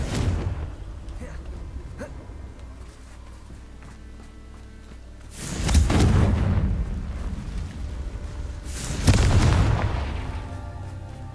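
Fire-spell explosions from the Confringo spell in the PS5 game Hogwarts Legacy: two heavy booming blasts a few seconds apart, each with a rumbling tail, over a steady game soundscape.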